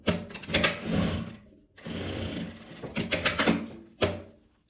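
A sewing machine runs in several bursts stitching a seam on a multi-pocket fabric pouch, with rapid mechanical whirring that stops and restarts, close and fairly loud, with no talk.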